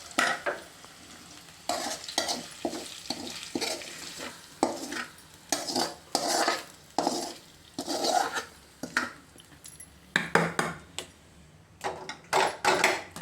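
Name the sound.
stirring and mixing pongal in a cooking pot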